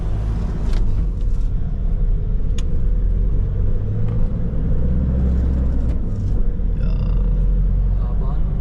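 Heavy road traffic, with car engines rumbling continuously in a dense, steady wash of vehicle noise and a few brief louder passes, while people talk over it.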